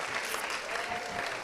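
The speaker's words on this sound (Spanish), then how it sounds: "Otro aplauso para ella," An audience applauds Alina Abreu, director of a dance conservatory, with a continuous dense wash of clapping, moderately loud and steady throughout, with faint voices beneath.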